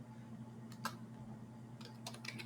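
Fingers type on a computer keyboard in short bursts, quiet and close, with gaps of near silence between the key clicks and a faint steady hum behind them.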